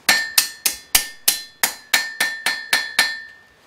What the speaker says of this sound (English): I'm also going to switch off and use a ball peen hammer